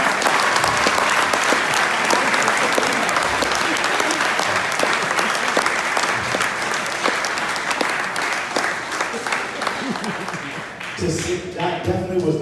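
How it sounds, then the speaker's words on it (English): Long, steady round of applause from a large audience at a field naming ceremony in the Cayman Islands, praising a primary school's song; the clapping stays strong, then thins near the end as a voice and other sounds come in. "I need another round of applause for the Edmund Ward Primary School on the song"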